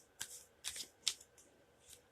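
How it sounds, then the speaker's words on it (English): Quiet, crisp riffling of cards in a few short bursts, close up, with pauses between each shuffle. "I'm going to just do a quick shuffle, and then a cut,"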